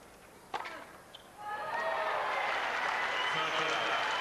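A tennis crowd breaks into sustained applause and cheering for Goran Ivanisevic after a sharp racket hit, the clapping swelling and holding loudly in a large arena.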